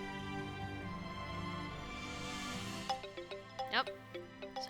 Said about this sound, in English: Cell phone is ringing.